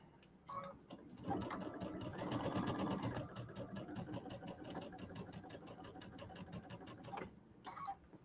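A sewing machine pieces quilt blocks for a table topper in a continuous run of rapid, even stitching that starts and stops with short bursts at each end, close and fairly quiet.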